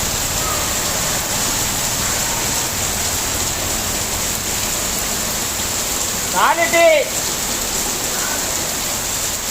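Heavy rain pours down in a steady, dense roar that fills the whole scene, with a brief tonal sound breaking through near the end.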